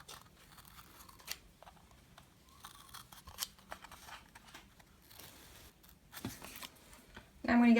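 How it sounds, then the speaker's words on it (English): Scissors snip close by in a series of irregular crisp cuts through a stiff cardboard disk, ending with a louder rustle. "Next we're going to take our scissors and I'm going to cut to about 2 centimeters from the center"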